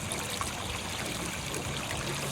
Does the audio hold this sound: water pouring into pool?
yes